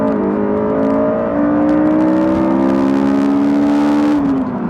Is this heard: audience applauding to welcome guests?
no